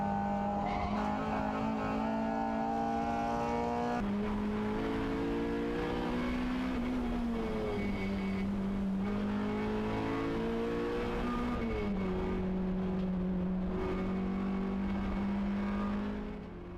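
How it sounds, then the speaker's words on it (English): Race cars, among them a Honda Civic, going into the hairpin at Rockingham, with engines droning and shifting pitch through gear changes, loud and close throughout. "with Dave Charlton on the bumper of Jamie's Civic going into the Dean hairpin"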